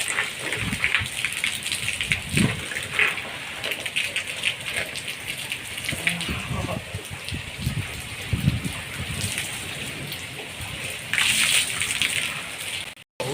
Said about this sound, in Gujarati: હજી જો વરસાદ ઊભો જ નથી રહેતો, ચાલુ ને ચાલુ છે, સતત ક્યારનો ચાલુ છે